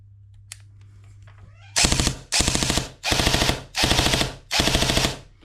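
Cyma M14 airsoft rifle fitted with a Perun mosfet firing five loud full-auto bursts in quick succession, each a rapid buzzing rattle of shots, after a quiet lead-in with a faint hum.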